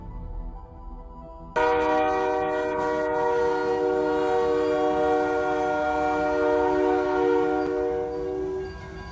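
A loud, sustained train horn sounds at a level crossing, beginning abruptly after a quieter stretch of rail rumble and holding steady with rich harmonic tones for most of the clip before easing off near the end; no talking.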